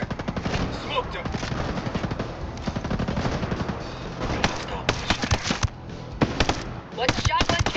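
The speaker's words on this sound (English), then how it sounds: "One shot, one kill." Rapid gunfire in the video game Ghost Recon Breakpoint, dense bursts of loud cracking shots with brief pauses between volleys, under occasional in-game voices.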